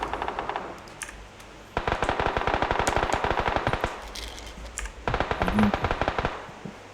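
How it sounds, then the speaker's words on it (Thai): Three loud, close volleys of rapid automatic gunfire from people shooting at each other, each long rattling burst broken by a brief pause, with no voices. "ยิงกันยังไง ว่าไม่ตายเลย"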